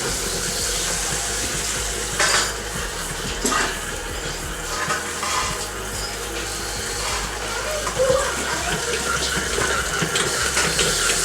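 Warm water runs from a kitchen tap into a bowl used for sourdough, a steady close hiss and splash with a few small knocks.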